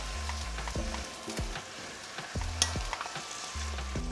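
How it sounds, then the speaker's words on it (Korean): Steady sizzling of beef bulgogi stir-frying in a pan over medium-high heat, with a spatula scraping and stirring in repeated short strokes. "이대로 중강불에서 계속 볶아줄게요"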